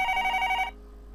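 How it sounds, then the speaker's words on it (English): Desk telephone ringing in a Higurashi visual novel game scene: a bright electronic trill with steady repeating tone, loud and close, then cutting off abruptly into near silence. "The phone on the desk rang,"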